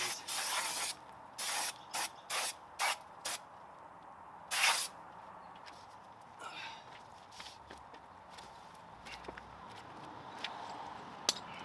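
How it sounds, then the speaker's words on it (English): Aerosol cleaner sprayed onto the front brakes of a fifth-generation Toyota 4Runner during a brake install, heard as about eight short, sharp hissing bursts of varying length, close to the microphone, then quieter shuffling. "I'll spray these down real quick"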